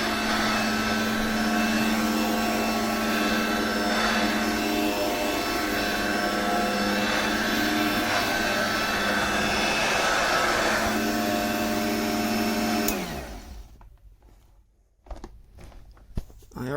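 A Royal Stark M570 hand vacuum runs with a steady, muffled motor drone and no sharp whine for about thirteen seconds, then shuts off and spins down, leaving quiet handling noises.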